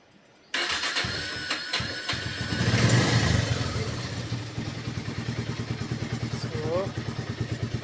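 A Bajaj Pulsar motorcycle that had been submerged in a flood is started with the self-starter, cranking and then catching into a close, steady idle with rhythmic chugging, while someone talks over it.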